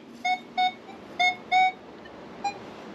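A metal detector sweeps over a garden while treasure hunting, sounding five clear electronic beeps: two close together, then a pair, then a shorter final beep, all loud and near against a quiet background.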